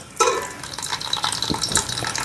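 Steady, close sizzling of onions frying crisp in hot oil for pulao, with a few clinks and scrapes of stirring. No voices.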